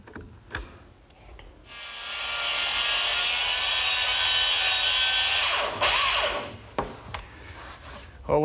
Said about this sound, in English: I've set up a straight edge clamp for the long cut, which actually guides the base of my little circular saw